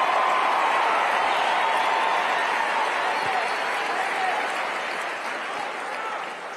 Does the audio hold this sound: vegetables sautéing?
no